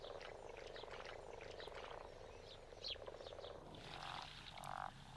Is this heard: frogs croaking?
yes